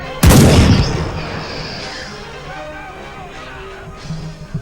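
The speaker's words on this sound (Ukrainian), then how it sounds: "Друга гармата готується." A single loud boom from an old cannon on a wooden carriage erupts in Camogli, Italy, then its rumbling echo fades away, followed by faint outdoor background noise.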